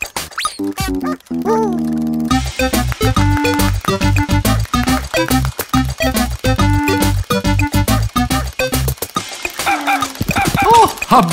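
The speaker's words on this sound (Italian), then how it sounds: "Abbaia pure!" Cartoon puppy from an animated children's show yapping in a string of squeaky, high-pitched barks and yelps, close and loud, with music underneath.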